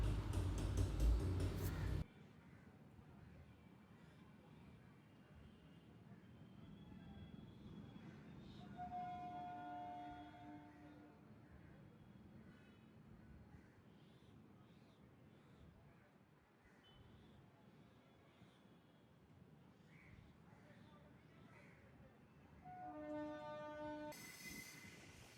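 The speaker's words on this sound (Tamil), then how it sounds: "ஸோ ஒரு ட்ரெயின் கிராஸ் ஆகுது." A train rolls past at Royapuram railway station at evening, a steady rumble of wheels and cars with brief squeals and a horn sounding partway through, fairly distant under ambient noise.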